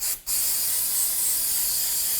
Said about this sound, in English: spray this down with some brake parts cleaner